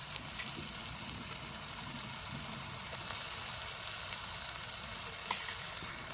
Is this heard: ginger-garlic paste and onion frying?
yes